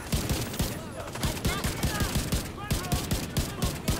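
Rapid, evenly spaced bursts of gunfire from a rifle with heavy recoil in The Division 2, set in New York, ringing out loud and close with faint talk underneath.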